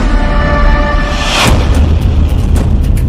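A bomb explosion bursts out loud, then leaves a long, dense rumbling roar with scattered crackles and no voices.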